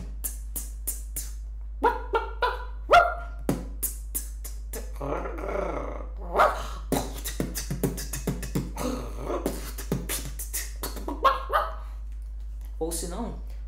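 A beatboxer imitates a dog with sharp, rapid barks and yips, woven into a percussive vocal beat of clicks and bursts, close and dry over a constant low hum.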